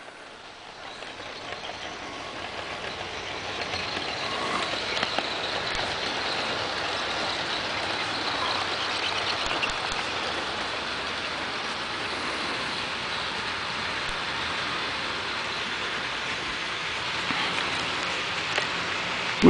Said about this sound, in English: we'll watch a train go around the layout tonight.